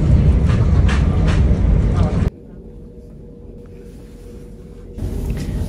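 Inside a London train near journey's end, a loud, rumbling ride noise suddenly drops to a quiet hush, then the rumble partly returns.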